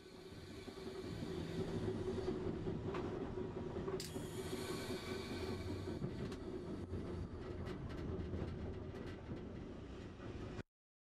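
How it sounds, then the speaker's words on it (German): A historic Berlin S-Bahn special train rolls into Ostkreuz station, a steady loud rumble of wheels on rails with clicking joints and a brief squeal, then cuts off. "Mit etwas Schwung überwindet der Sonderzug die Senke vor dem Bahnsteig."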